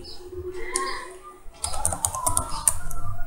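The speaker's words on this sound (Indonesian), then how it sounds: "Kita bisa ketikkan misalkan Gozali" Someone types a name on a computer keyboard. Quick close clicks come first, then a denser burst of keystrokes in the second half, with faint background noise and no clear talk.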